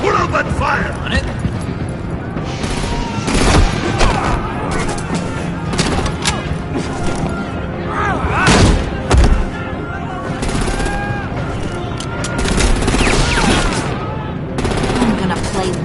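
Gunfire erupts in a Batman video game: repeated loud bursts and rapid shots over a dense, noisy combat mix, with voices shouting through it.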